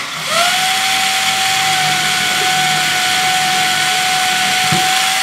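Power drill boring a hole into a wooden wall stud: a loud, steady whining motor drone holding one pitch for about five seconds, close and continuous, with a brief knock near the end.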